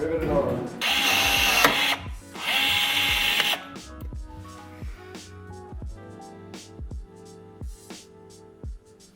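A power rivet tool fastens a rear control arm on an RZR Trail S 1000. Two loud whirring bursts are followed by a series of sharp clicks and snaps, close by.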